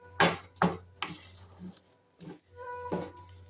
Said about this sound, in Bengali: আমি ডালটা একটা পাত্রে ঢেলে নিচ্ছি